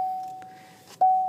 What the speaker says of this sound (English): the chimes are better in that radio.